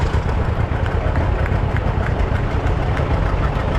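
A classic John Deere unstyled Model B tractor idling in a tractor parade, its steady low engine rumble loud and close with no break.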